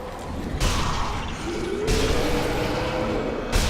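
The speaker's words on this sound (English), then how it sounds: "It's good to note those explosions." Grenade explosions in the zombie shooter Sniper Elite: Nazi Zombie Army 2, three loud broadband bursts hitting at intervals over sustained rumbling game noise, with a faint whooshing sweep between blasts.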